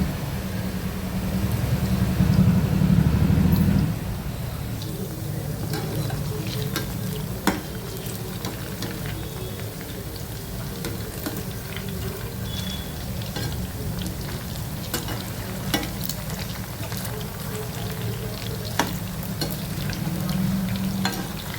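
Raw chicken pakoda sizzles steadily in hot oil on a medium flame, with a louder stirring scrape at the start and then a constant crackling fry that continues to the end.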